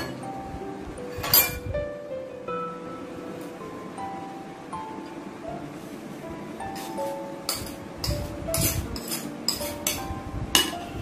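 A spoon stirs crushed biscuit with melted butter in a bowl during a children's cooking competition. Light clinks and taps repeat steadily, quickening toward the end, over a soft background.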